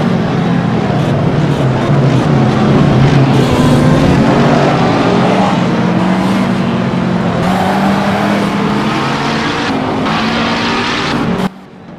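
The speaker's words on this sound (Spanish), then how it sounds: "Cómo ruge el coche" A race car engine in the Assetto Corsa driving simulator roars loudly and continuously, its pitch rising and falling through revs and gear changes, close and dominant until it cuts off abruptly near the end.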